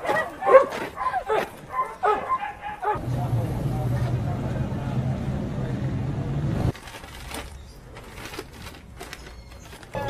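Abandoned purebred and family dogs in Venezuela bark in short, repeated bursts and whimper, mixed with people talking nearby. A steady rumbling noise fills the middle stretch before the barking returns.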